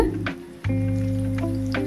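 Chopped large onion sizzles and crackles in hot oil with fried curry leaves, a steady frying hiss with a brief dip, then louder spitting as more goes into the pan.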